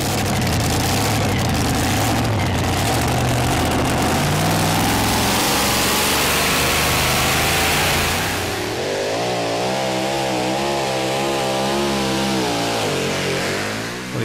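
Hemi Stage 10 engined pulling tractor in the 2.6 ton two-wheel-drive class at a European tractor pull in Bryne, a loud sustained roaring run, dropping to a rough lower drone near the end.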